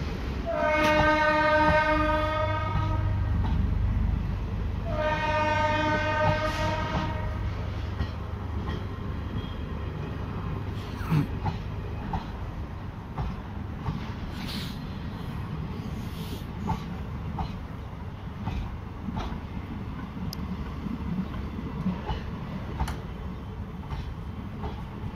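Vande Bharat train sounding two long, loud horn blasts, then rumbling past with steady wheel noise and faint clicks on the rails.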